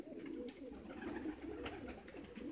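Several pigeons coo in low, throaty bursts close by inside a pigeon loft, overlapping continuously with faint rustling in the enclosed space.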